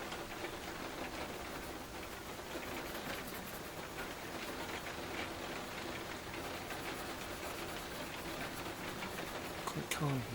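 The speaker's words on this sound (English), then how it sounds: "Don't worry about that, it's just a bit of rain." Steady rain falls as a constant, even hiss of drops throughout, close and moderately loud, with a brief sharper sound just before the end.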